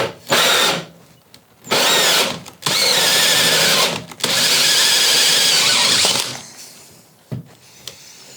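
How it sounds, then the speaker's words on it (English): A power drill boring a hole during a ceiling light installation in a home without existing wiring, loud whirring bursts close by, starting and stopping several times with short pauses between runs. "I'm just gonna drill another hole."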